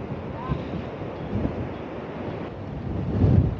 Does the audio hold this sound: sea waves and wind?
yes